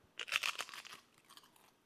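Crisp, brittle crunching of homemade keto protein chips being bitten and chewed, a burst of loud crackly bites up close followed by fainter, scattered crunches.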